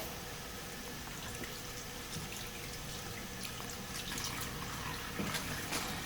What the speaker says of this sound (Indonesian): Setelah itu dibasuh dengan air bersih.